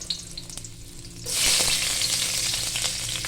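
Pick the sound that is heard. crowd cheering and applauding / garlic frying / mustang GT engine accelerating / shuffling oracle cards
garlic frying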